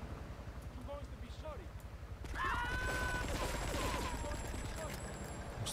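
Rapid automatic gunfire in GTA III, a steady stream of close shots running throughout and growing louder and denser partway through, with someone talking over it.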